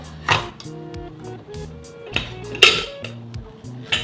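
A pressure cooker that has just cooked mutton is opened, with a series of sharp metallic clinks and clanks of the lid and utensils against each other, close and intermittent.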